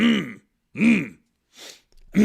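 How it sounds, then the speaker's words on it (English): Gruff throat clearing in three harsh bursts with short pauses, a softer breathy rasp between them, loud and close, with no other sound around it. "clear my throat out"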